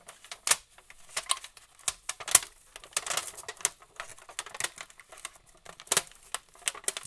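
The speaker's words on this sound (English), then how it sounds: "seal it up in this foil." Aluminium foil crumpled and folded by hand to seal steel parts for case hardening, heard as close, irregular crinkling and crackling bursts with brief quiet gaps between them.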